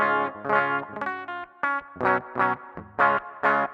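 A clean electric guitar through a Kemper plays a run of chords and single notes with a bright, slightly chorused tone, steady and close, with no talking.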